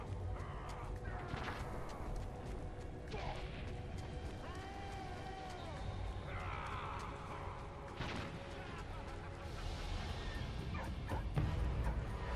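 A dog in the World War I video game Valiant Hearts: The Great War barks and yips in short bursts with some whimpering, faint under game sounds and a mechanical background.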